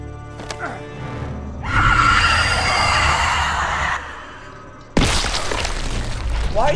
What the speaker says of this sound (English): your sonic scream Fatality. Blew up his fucking skull